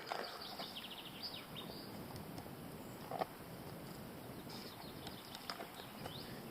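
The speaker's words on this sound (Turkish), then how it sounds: "Cıvıl cıvıl kuş sesleri" Faint bird chirps come from a distance over a steady outdoor hiss on a quiet village road by a forest, with an occasional soft knock or step.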